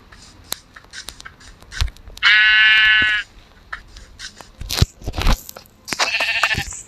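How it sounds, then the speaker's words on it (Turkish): A single electronic Minecraft sheep bleat, buzzy and steady for about a second, stands out among clicks, crunches and other game noises. "Orada bir tane koyun var."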